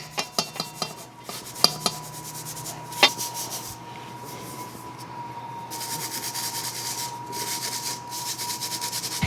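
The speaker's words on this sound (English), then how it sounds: "force the buttermilk through the strainer so it can also be in very small size pieces" Buttermilk and baking soda are pressed by hand through a metal strainer, giving faint scraping and rubbing with a few sharp clinks of utensil on metal early on, then a steady soft grinding rasp.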